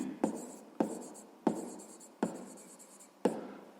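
A pen writes by hand on paper in five short scratchy strokes, each a sharp start that fades off, evenly spaced and close, alone without talk.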